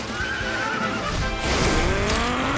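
A horse in Dragon Quest XI gives a loud, drawn-out neigh with a rising whinny over a steady game soundtrack and ambience, with faint hoof clip-clop mixed in.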